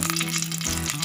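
Panch phoron spices and two dried red chillies sizzle in hot oil with a short, dense, close crackling hiss and no talk.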